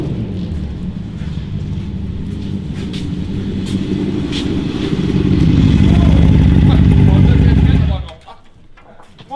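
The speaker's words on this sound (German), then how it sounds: "Das klingt streng nach Buggy." A buggy engine runs loud and steady, swelling into a heavier roar around the middle before cutting off sharply near the end, leaving quieter background.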